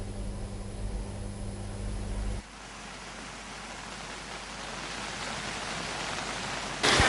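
Heavy rain pours in the Dickoya area of Nuwara Eliya, Sri Lanka, during flooding, heard as a steady, dense hiss. A low hum fills the opening seconds before it drops away.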